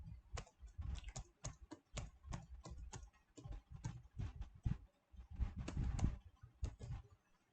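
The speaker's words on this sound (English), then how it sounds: "So I've tapped my password, then I press enter." A computer keyboard clicks with a fast, uneven run of nearby keystrokes as a password is typed, the taps steady and distinct, with no talking.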